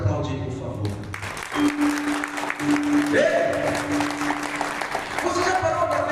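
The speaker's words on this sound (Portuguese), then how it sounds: "Pode aplaudir, por favor" An audience applauds during a Catholic sermon on the family, the clapping swelling and holding steady under a sustained musical tone and some voices.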